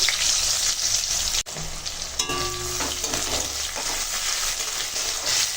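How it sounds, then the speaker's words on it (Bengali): Chopped onions frying in mustard oil in a pan, a steady close sizzle with brief stirring knocks and a short tonal clink partway through, no speech. "দেখো পেঁয়াজটা বেশ ভাজা হয়ে গেছে"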